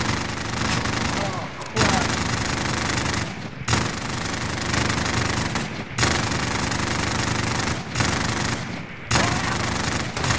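Sustained automatic gunfire in a co-op shooter video game, with long dense bursts broken by brief pauses, loud and close throughout.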